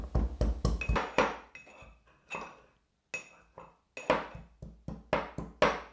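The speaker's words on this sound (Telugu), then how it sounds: "రెండు లేదా మూడు వెల్లుల్లి తీసుకొని ఇలా దంచుకోవాలి" Peeled garlic cloves being pounded into a paste, likely in a mortar: a run of sharp, close, loud rhythmic strikes with metallic clinks, a brief pause, then another steady burst of blows.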